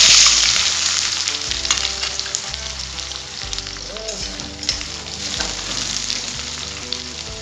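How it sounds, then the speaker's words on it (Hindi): Onions and cumin seeds frying in very hot mustard oil for a chicken curry, a loud steady sizzle with stirring scrapes running throughout, with no talking. "सबसे पहले जीरा डालेंगे, उसके बाद प्याज"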